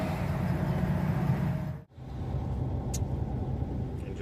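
At a truck stop, a continuous low rumble of engines and passing traffic fills the air, briefly dipping to near silence for a moment before the steady drone resumes.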